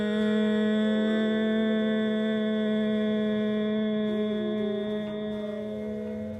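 Steady nasal hum voiced with the mouth closed and the tongue touching the palate, a sustained near tone held without a break for several seconds.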